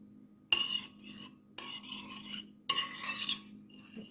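A mixture of barbecue sauce and soy sauce being stirred with a utensil: three distinct scraping strokes against the container, close and fairly quiet, with no talking.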